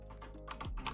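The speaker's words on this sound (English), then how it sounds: "We're going to start typing some stuff up." Fingers type on a computer keyboard while coding a portfolio website, giving a quick run of close, soft key clicks over a low steady hum, with no speech.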